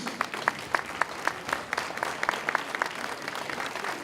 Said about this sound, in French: On peut l'applaudir, qui est parmi les membres de notre jury.